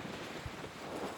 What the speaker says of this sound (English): Being in a tree does not help with the wind.